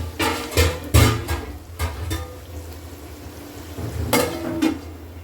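Sautéing in a covered pan for mandhi biryani: soft sizzling under a lid, broken by several sharp clanks of a utensil or lid against the pan, close and moderately loud.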